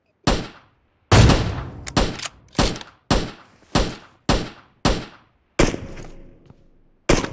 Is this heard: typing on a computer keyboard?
no